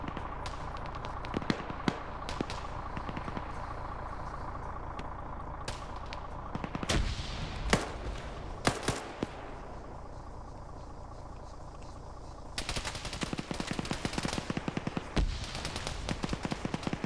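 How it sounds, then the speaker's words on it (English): Gunfire in a PvP shooter video game match, with dense bursts of distant and nearer shots, a few louder sharp cracks, and rapid automatic fire near the end over a constant background of ambient noise. "Op 4 shooting up on the hilltop."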